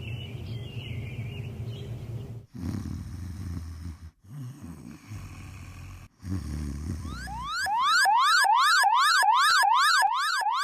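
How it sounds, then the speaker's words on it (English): A loud wailing cartoon fire station siren rises and falls in quick repeated sweeps, taking over after a stretch of rumbling background noise. "Alarm? Siren?"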